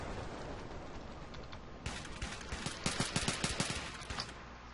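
Minecraft Hunger Games with a guns mod: a faint background, then a rapid burst of sharp gunshots, about a dozen close cracks in quick succession with a few trailing shots, no talk.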